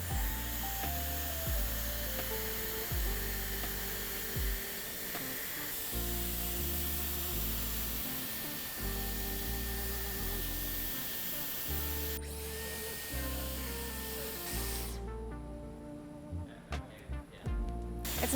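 Dyson Airwrap hair styler blowing a steady, loud rush of air with a little heat, continuous throughout with shifting tone and a brief change near the end.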